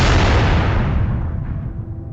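In a war film set in Iraq, gunfire brings down a helicopter, heard as a loud, close, booming blast that rolls and fades over two seconds.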